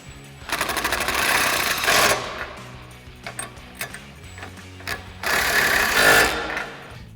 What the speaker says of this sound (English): we'll grab our 17mm wrench and our 16mm socket and extension on our impact. We'll go ahead and get these tightened down.